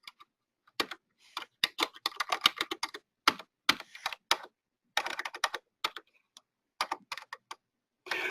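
Computer keyboard typing during data entry, quick clusters of crisp close key clicks broken by short silent pauses, with no speech over them.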